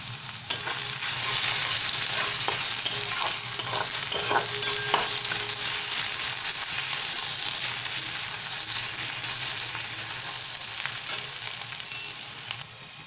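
Four crushed garlic cloves hit a pan of frying onions, bringing a bright, dense sizzle with a few sharp spoon taps early on, steady and close before easing slightly toward the end.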